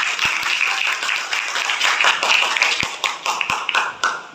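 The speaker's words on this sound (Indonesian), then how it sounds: "tepuk tangan untuk kelompok ini" A small group in a classroom lesson claps for a few seconds, a close, fairly loud patter of hands with a few sharp taps standing out.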